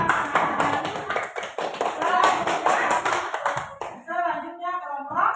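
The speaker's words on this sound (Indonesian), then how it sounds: "tepuk tangan" A classroom group claps for a presenting group after a poster presentation, a dense burst of applause lasting about four seconds before a voice begins speaking.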